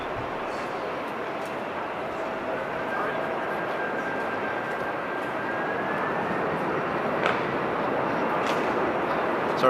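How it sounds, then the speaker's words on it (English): An Airbus A380 departs from a runway with a steady, broad roar of jet engines that slowly swells in loudness, heard from a distance outdoors. "that actually means we will see the A380 depart from runway 18 left"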